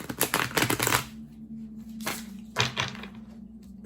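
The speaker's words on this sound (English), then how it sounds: "one more shuffle." Tarot cards are shuffled by hand in quick riffling bursts, close and crisp, with a pause between bursts and a low steady hum underneath.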